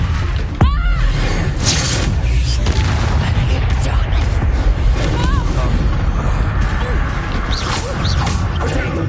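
Confringo blasting spell explosions in Hogwarts Legacy, dense rumbling booms and crashes filling the whole stretch with a sharp whooshing burst early on, loud and close, with a voice calling out over the battle.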